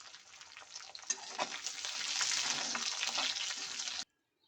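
Dried red chillies sizzle and crackle steadily in hot oil in a pan, a busy close frying hiss that grows slightly louder before cutting off abruptly.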